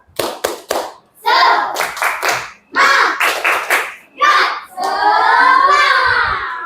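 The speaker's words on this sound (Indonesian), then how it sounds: "Oke, tepuk semangat." Schoolchildren in a classroom clap a rhythmic tepuk semangat spirit clap, sharp patterned hand claps alternating with loud chanting voices, close and bright, ending in a long sung or shouted phrase.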